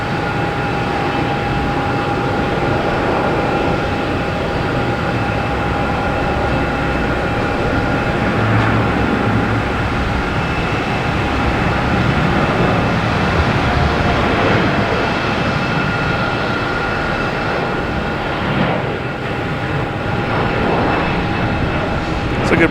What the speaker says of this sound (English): next we have a Delta E175 heading to LaGuardia